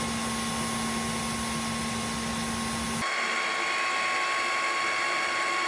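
A Dreame H14 wet dry vacuum runs its self-cleaning cycle, a loud steady mechanical whir with a hum that shifts abruptly to a different higher-pitched motor and water tone partway through.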